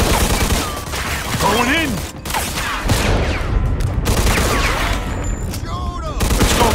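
Gunfire in the Mafia 2 video game, dense bursts of shots crackling loudly throughout amid game music and effects, with a voice speaking briefly over the action.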